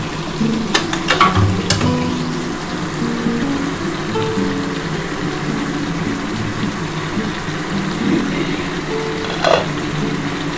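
Chicken sautéing with fried potatoes over gentle heat, a steady sizzle throughout with occasional utensil scrapes and clinks, close and fairly loud, with no voices.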